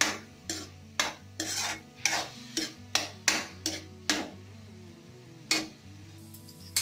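Boiled carrots for gajar halwa are roasted over a medium flame, with a series of sharp rhythmic scraping and clinking strokes of a spoon against the pan over a faint low hum.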